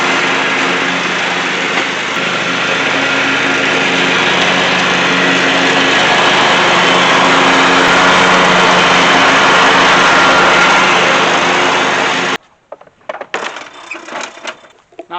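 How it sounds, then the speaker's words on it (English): A lawn mower engine runs steadily and loudly while cutting garden grass, a continuous close drone that cuts off abruptly near the end, leaving faint rustling. "Now from that little bit of mowing"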